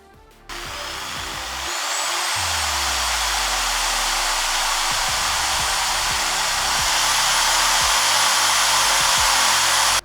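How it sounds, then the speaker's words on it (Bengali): A power drill starts abruptly and then runs at a steady, loud, high whine as it bores screw holes into the top cover of a homemade air cooler, holding its pitch for nearly ten seconds. "দাগ অনুযায়ী আমি ড্রিল করে নিব।"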